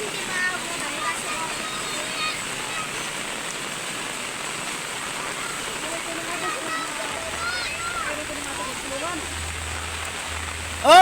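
Strong rushing water pouring continuously as a broad, steady hiss and splash at moderate level, with a low rumble joining later and a sudden loud burst at the very end.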